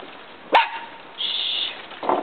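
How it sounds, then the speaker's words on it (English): A single sharp dog bark rings out, followed by a brief high tone and some faint noise, fairly close. "What's she barking at?"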